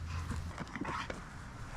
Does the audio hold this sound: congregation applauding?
no